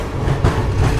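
The Krishna Express runs on with a loud, close, steady rumble of wheels and carriage, and a brief louder clatter midway.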